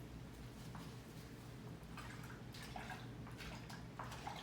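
Soapy enema solution sloshes and gurgles inside a bag as it is gently agitated, producing faint, intermittent liquid splashes and drips in a quiet room.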